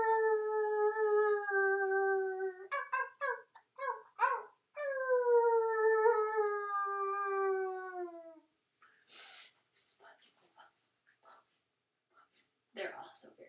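Voices imitating coyotes in a yoga session: long rising and falling howls, broken by short yips, come in two stretches, followed by quieter breathy sounds and brief talk.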